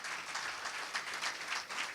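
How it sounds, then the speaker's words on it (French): An audience at a talk on Haiti and its diaspora applauds itself, a continuous, even patter of many hands clapping at a moderate distance, alone without speech. "Applaudissez-vous vous-même"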